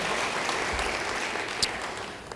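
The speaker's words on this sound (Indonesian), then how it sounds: "Beri tepuk tangan yang baik bagi dia." Church congregation applause during an online Sunday revival service, a steady wash of clapping that continues throughout at moderate volume, with no voices over it.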